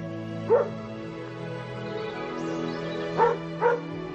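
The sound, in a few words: distant dog barking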